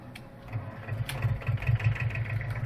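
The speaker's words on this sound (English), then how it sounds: "A little two-stroke." A small two-stroke engine runs in Farming Simulator 17, a steady low putter with a slightly uneven pulse that stays moderately loud throughout.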